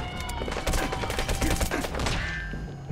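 Rapid bursts of gunfire in the video game Metal Gear Solid V: The Phantom Pain, loud and close, with dense overlapping shots and a brief pause before more firing.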